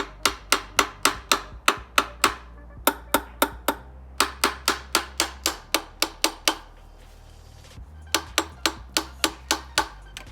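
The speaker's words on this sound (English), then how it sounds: "maybe hit it with a hammer a little bit" A hammer taps the metal of an idle air control valve on an Acura TL or Honda Accord in quick, evenly spaced series of sharp knocks, several runs with brief pauses between, close and fairly loud.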